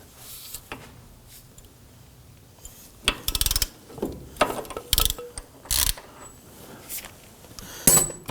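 A socket ratchet works an axle nut on a 2005-2009 Subaru Legacy during a steering knuckle job, with quiet handling clicks and then several bursts of rapid, close ratcheting clatter.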